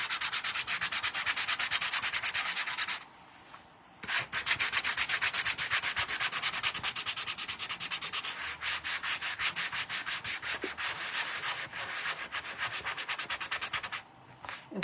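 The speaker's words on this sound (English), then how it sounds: "I'm going to use my little sander to get off this rough stuff." A small electric sander rubs across rough wood for a DIY shamrock craft, a steady close, loud grinding rasp that cuts out briefly twice, then resumes.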